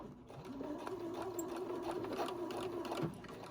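Sewing machine running a short stay stitch across the top of a newborn-sized elf outfit, a steady humming whir lasting a few seconds, close but quiet, with a faint clatter as it stops.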